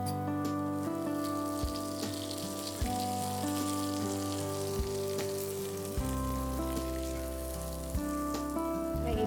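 Cauliflower frying in hot oil for Kashmiri dum gobi, a dense steady sizzle with occasional soft knocks of stirring, close and continuous.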